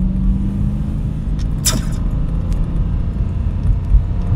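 Dodge Scat Pack on stock tires accelerating hard in second gear at around 30 mph, a loud, steady low engine roar with broadband rumble throughout and a brief sharp sweep midway, no voices.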